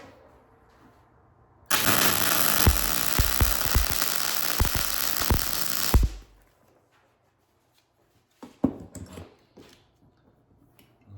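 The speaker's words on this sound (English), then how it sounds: "Now, weld this side up." One side of a homemade diesel submarine is welded. A loud, steady crackling hiss lasts about four seconds before cutting off, followed by near silence with a couple of brief knocks.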